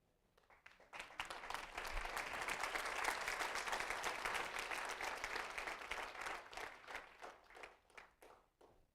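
A church congregation breaks into sustained applause during a Spanish-language sermon, the clapping swelling to a dense roar before thinning into scattered, separate claps near the end.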